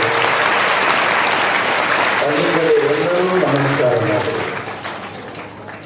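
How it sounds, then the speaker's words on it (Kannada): An audience gathered for a Basava Purana religious discourse claps loudly to welcome a swamiji, a dense continuous applause that fades toward the end while someone talks over it. "ಜೋರಾದ ಚಪ್ಪಾಳೆಯೊಂದಿಗೆ ಸ್ವಾಗತ ಮಾಡಿ"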